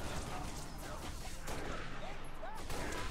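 Rapid bursts of Halo: Reach gunfire crackle amid explosions and chaotic noise, with a voice talking over the action.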